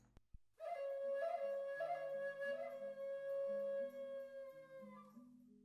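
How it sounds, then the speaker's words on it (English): Native flute sound effect from the video game Dwarf Fortress: a sustained, breathy wind melody over a low stepping bass line, loud and continuous for about five seconds after a brief click at the start. "you'll see this sound, native flute."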